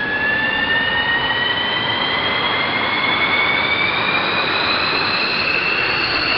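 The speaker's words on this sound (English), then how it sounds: "the engine starts to accelerate on its own power" A gas turbine jet engine roars continuously during startup, its rising whine climbing steadily in pitch as it spools up on its own power, loud and close.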